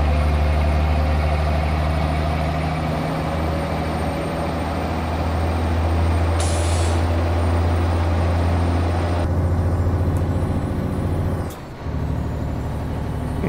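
A Mack R Series truck in American Truck Simulator rumbles with a loud, steady low engine drone, a brief hiss partway through and a short dip near the end, with no talk.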